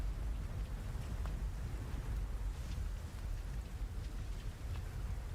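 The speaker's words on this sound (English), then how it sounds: "I'll go out in the rain." Steady video-game rain pours down in a dense, even hiss on surfaces with faint low rumbling underneath, continuous and without voices.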